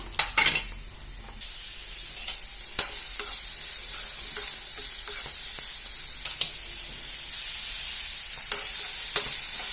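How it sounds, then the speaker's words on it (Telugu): Thinly sliced onions dropped into hot oil, a steady sizzling hiss with sharp crackles and occasional clinks and scrapes of a utensil against the pan, close and without voices. "ఇప్పుడైతే మనం సన్నగా కట్ చేసుకున్న ఉల్లిపాయలు అయితే వేసేసుకుందాము"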